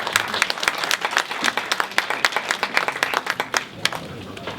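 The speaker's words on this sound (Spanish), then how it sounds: "Le recibimos con un aplauso a la licenciada que está aquí acompañándonos" Audience at a conference applauding to welcome a speaker, a steady burst of many hands clapping with distinct near claps, fading slightly at the end, with a faint voice beneath.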